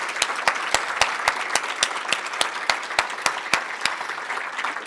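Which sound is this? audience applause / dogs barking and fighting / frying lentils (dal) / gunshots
audience applause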